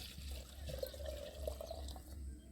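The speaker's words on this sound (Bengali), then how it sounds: "গরম গরম জল দেবো আর মাখাবো" Freshly heated water poured from a pot into rice flour to make dough for coconut pitha, a steady soft trickle and splash, fairly quiet and continuous, with no one talking.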